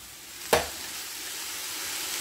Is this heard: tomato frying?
yes